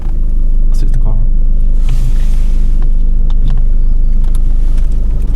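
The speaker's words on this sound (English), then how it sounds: "I'll switch the car on." A car engine starting up during a driving test, a steady low rumble and idle filling the cabin alongside faint clicks and shuffling.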